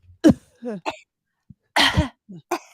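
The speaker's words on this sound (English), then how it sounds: "Make it a sexy cough" A few short, breathy coughs come in separate bursts with pauses between them, close to the listener in an otherwise quiet room.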